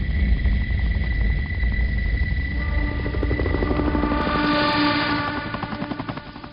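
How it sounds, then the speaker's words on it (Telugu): A police helicopter in a film scene whirs with a steady rotor drone and rhythmic blade chop, swelling loudly overhead and then fading slightly as it moves off. "police helicopter"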